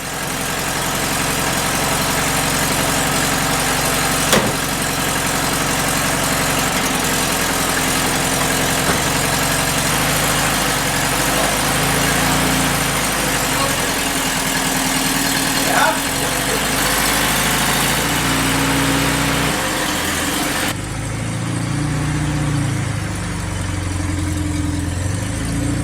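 A restored Porsche 912, back running after 43 years off the road, idles steadily and close by for about twenty-five seconds, a continuous low engine hum with small shifts in tone and faint speech in the background.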